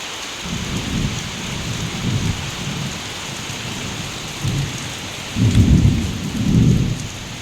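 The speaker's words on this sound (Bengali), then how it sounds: "দেখো কি জোরে বৃষ্টি হচ্ছে, কি অবস্থা।" Heavy rain pours steadily on surfaces during a storm, with several deep rolls of thunder rumbling through, the loudest near the end, and no voices.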